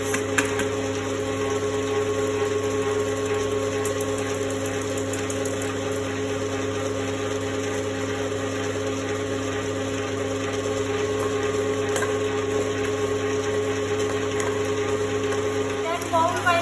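An electric mixer whisks chocolate sponge batter for a Yule log toward ribbon stage, a steady close mechanical whir that holds level throughout with no breaks.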